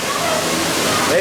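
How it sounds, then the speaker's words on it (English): Waterfalls pouring down beside the Chiapas log flume ride at Phantasialand in December, a loud, dense, continuous rush of falling water filling the scene, with a faint tonal trace over the top. "All the waterfalls down the side."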